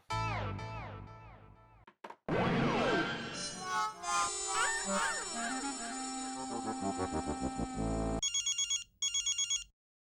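An electronic phone ringtone plays a busy, melodic pattern for several seconds, ending in a few rapid trilling rings, with no talking.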